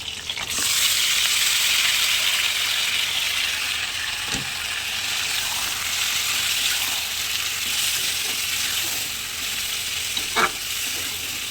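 A tomato and potato curry sizzles and fries steadily in a pan, a continuous bright crackle with a few soft stirring knocks and clinks, close and alone without talk.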